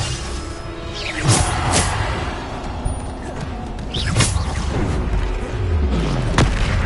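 Spell explosions in the game Hogwarts Legacy, several booming blasts with whooshing sweeps spaced a few seconds apart over a busy combat background.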